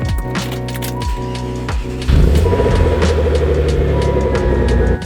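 A Ford Probe GT idles loudly as it backs out of a driveway, with a steady low engine drone that swells in the second half, with some harmonic whine and no talking over it.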